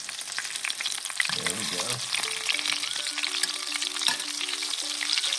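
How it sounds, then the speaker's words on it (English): Mutton snapper fillets frying in a pan, a dense, steady sizzle and crackle up close throughout, with a brief utensil scrape and a short spoken phrase partway through, plus faint tonal background sounds later. "Gonna cook it probably 3-4 minutes on each side until they're lightly brown"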